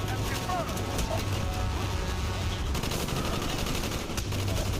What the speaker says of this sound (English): I can't see where this guy's shooting me from.